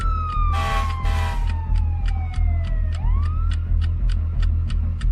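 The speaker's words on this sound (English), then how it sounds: "I hate sirens." A loud wailing siren sweeps down and back up, over a steady pulsing electronic beat with rapid repeated clicks.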